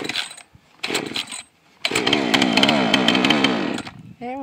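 A chainsaw is pull-started in two short bursts of engine noise, then catches and runs at a steady, loud, buzzing idle for about two seconds before cutting back, heard alone with no talking.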